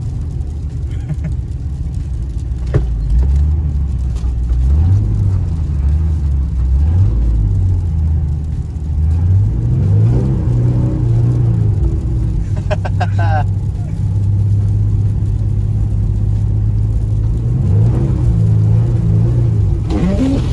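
A Nissan 350Z drifting through snow, its engine rumbling loudly and continuously with rising and falling revs as the car slides, wind and road noise filling the background.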